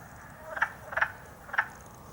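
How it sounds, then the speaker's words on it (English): A wood frog calls at a pond with three short, duck-like clucking croaks, faint and somewhat distant over a quiet outdoor background. "Sounds like a wood frog that's chirping."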